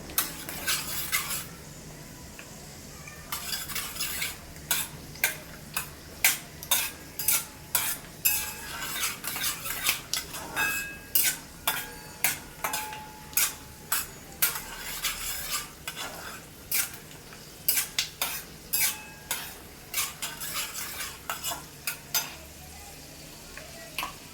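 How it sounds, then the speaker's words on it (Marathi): Melon seeds are dry-roasted in a pan, stirred steadily with a spatula; a repeated scraping and rattling rhythm of seeds and utensil against the pan runs through most of the stretch over a faint sizzle. "खरबूज भाजून घेणार आहे."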